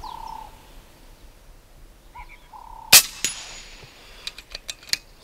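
A single loud hunting rifle shot cracks out at close range during scope zeroing, followed by a fading echo, with bird calls in the quiet wilderness before it.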